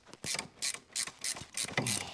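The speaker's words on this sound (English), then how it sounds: "Other one, we gotta use the ratchet. Open-ended ratchet." An open-ended ratchet clicks rapidly while loosening a brake bolt on a Mercedes SL500 6.0 AMG, several quick close bursts of ratcheting in a regular rhythm.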